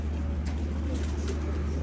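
Domestic foreign-breed pigeons coo softly, a low repeated burbling over a steady low hum, close by with brief faint flutter-like sounds.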